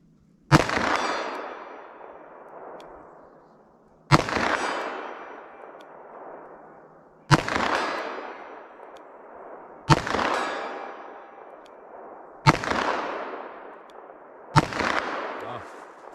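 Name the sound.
357 Magnum gunshots with PPU ammunition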